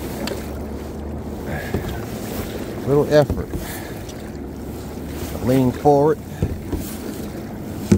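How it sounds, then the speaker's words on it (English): Oars dipping and pulling a small rowboat on the Pacific, soft watery strokes under steady wind noise, while a person speaks and calls out instructions. "Finding out you don't have to stick your oars too deep in the water to get some speed."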